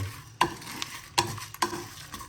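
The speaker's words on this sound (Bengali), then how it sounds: "এবার এটাকে থার্টি সেকেন্ড ভালো করে নাড়িয়ে দেবো" Plum pickle mixture with fennel seeds stirred in a pan over low heat, giving three quiet scraping strokes spaced about half a second to a second apart against a faint background.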